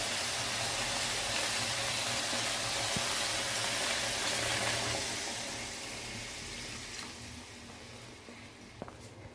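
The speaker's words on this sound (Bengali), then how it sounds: "এখন আমরা জল দিয়ে দেবো" Hot water poured into a pan of fish curry with spices fried in oil: a steady, fairly loud rushing hiss and bubbling sizzle that softens over the second half, with no voices.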